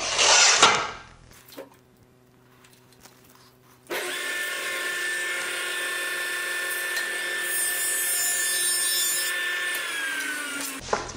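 A jointer planes the edge of a cabinet sheet in one long continuous pass, a loud steady machine whine with cutting noise after a brief knock and quiet pause at the start.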